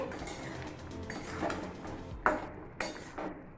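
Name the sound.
opening pot lid and stirring the shukto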